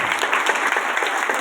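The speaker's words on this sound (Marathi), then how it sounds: "टाळ्या वाजून सगळ्यांनी स्वागत करा." A gathering at a Marathi kirtan in Dahigaon breaks into dense, even clapping that holds steady and close throughout.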